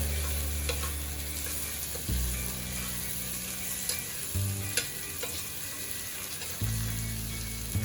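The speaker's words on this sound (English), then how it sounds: "Just stir it for a bit, let it cook." Big chunks of onion being stirred as they fry in a pan for Chinese chicken with oyster sauce: a steady sizzle with scraping strokes of the spatula over a constant low hum.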